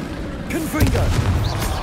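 A Confringo fire spell explodes in Hogwarts Legacy, a short booming burst with crackling tail, loud and close, amid other spell effects.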